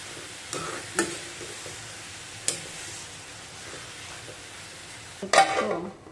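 Chicken gravy masala with curry leaves frying in a pan, a close, soft sizzle broken by a few sharp knocks of a spoon against the pan and a louder clatter near the end.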